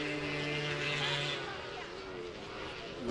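Racing motorcycle engine at a Grasstree beach race, a steady loud drone with shifting pitch as the rider hunts for a gear change, carrying on without pause.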